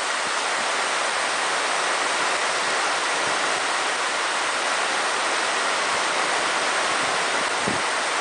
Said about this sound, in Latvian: Vējš pūš, pēkšņi, lietus krīt zemē